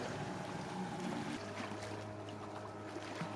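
A new outboard boat motor being broken in on the Desna river during a flood drones steadily over rushing water and wind, with a low engine hum holding throughout.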